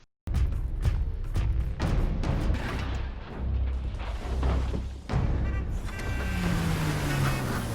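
A car pulls away in a war film scene after escaping a beach, its engine rumbling amid heavy booms and blasts, with a rising engine whine toward the end.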